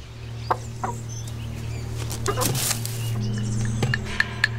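A hen clucks in short, scattered bursts close by, with a low steady hum in the background.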